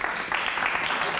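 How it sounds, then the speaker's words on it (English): Steady applause from a gathered audience at a 50th birthday celebration, a dense even patter of many hands with a few louder claps on top. "Give him a round of applause, y'all."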